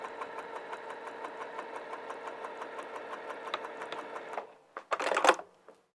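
A sewing machine stitches pinned fabric with a steady rapid rhythmic clatter for about four seconds, then stops, followed by a few brief handling clicks and rustles.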